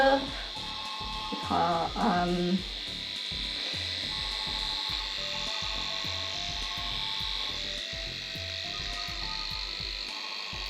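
A Pelcas derma pen microneedling device runs with a steady, high electric buzz and whine that holds throughout; brief speech and handling noise come at the start.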